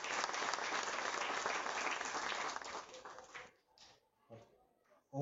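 A crowd at an official inauguration in Mauritius applauds for several seconds, dense and fairly loud, then the clapping fades into a few scattered claps and quieter room noise.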